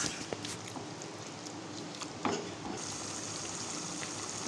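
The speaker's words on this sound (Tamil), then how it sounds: "சேர்த்துட்டு நல்லா வதக்கணும்" Mutton pieces sautéing in a pan for a Chettinad mutton pepper gravy, a steady close sizzle and crackle with faint stirring scrapes and a brief louder clatter midway, no talk.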